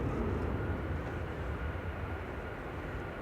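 A Brussels Airlines Airbus A319 lining up on the runway at Manchester Airport, a steady low engine rumble from some distance that holds even throughout.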